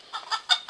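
Chickens on a farm give a few short, quick clucks in close succession, fairly faint and close by, in a brief burst.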